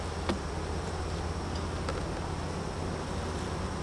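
Honeybees moving over a honey super on a hive produce a low steady hum with faint buzzing and a few small ticks and clicks, no voices.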